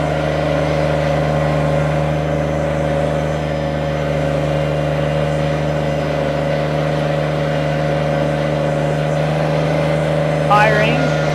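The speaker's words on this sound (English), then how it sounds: "I'm gonna go ahead and start this tractor up" A 2009 Kubota BX2360 compact tractor engine runs close and steady with a constant droning hum, and a short vocal sound rises near the end.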